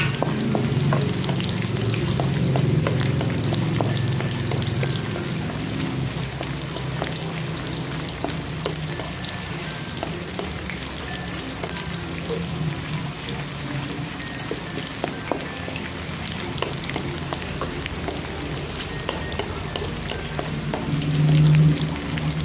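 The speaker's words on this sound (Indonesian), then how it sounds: "Tumis hingga layu dan warnanya kecoklatan sampai mengeluarkan wangi." Shallots, garlic and chili sizzling steadily in hot oil in a pan for sambal kacang panjang, a dense continuous frying crackle with occasional stirring, close and alone without talk.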